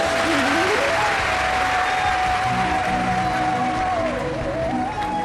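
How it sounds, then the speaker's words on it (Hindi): Loud, sustained applause from a large crowd at a religious discourse, continuous and even for several seconds, with a steady tone from music or a microphone running through it. "एक बार जोरदार ताली बजाओ।"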